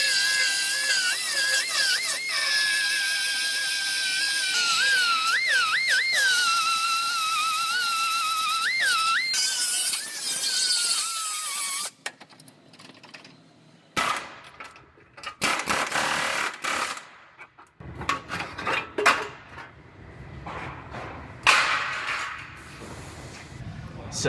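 A power cutting tool whines at high pitch, rising and dipping in pitch for several seconds as it cuts into a car frame apron, then gives way to sharp, irregular bursts of grinding and metal noise, loud and close.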